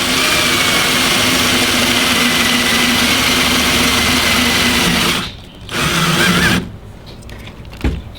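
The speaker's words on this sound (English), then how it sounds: "drill through here." A power drill bores through a louvered teak console door, a loud sustained whine that runs steadily, briefly drops out, resumes, then cuts to quieter intermittent bursts near the end, with no speech.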